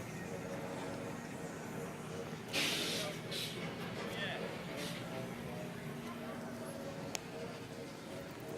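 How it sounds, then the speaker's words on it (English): A spray paint can sprays in a few short hissing bursts, used as a substitute for regular spray paint. The bursts are faint and sit over a steady low background rumble. "We ran out of regular spray paint"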